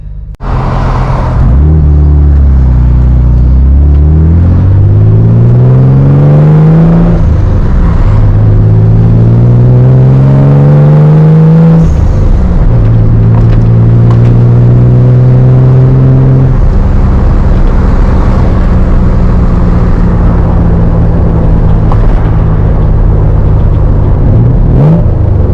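A car drives along a road for a first drive after roughly a year and a half off the road, its engine rumbling and rising and falling in pitch through several gear changes, loud and close throughout with no talk.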